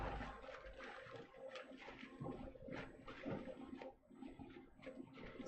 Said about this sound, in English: So I'll rinse this off in my little bowl of water and wipe it.